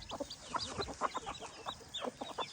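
Chickens cluck in a rapid, uneven series of short, close clucks at a farm, with no talking.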